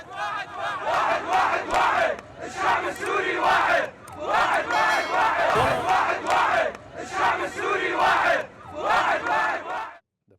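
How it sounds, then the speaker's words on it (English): Jubilant crowds in the streets of Damascus chant together in loud, rhythmic, repeated phrases, with many voices shouting in unison in steady waves that break off briefly between chants. "cars filled with jubilant crowds cruised through the streets of both cities, with people chanting together"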